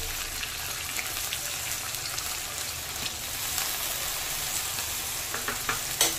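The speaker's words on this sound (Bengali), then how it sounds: "এসব একসাথে একটু ভেজে নেব" Potato, pointed gourd (kakrol) and taro frying together in a pan for a vegetarian dish, making a continuous, moderately quiet crackling sizzle with a few faint clicks of stirring, no talk.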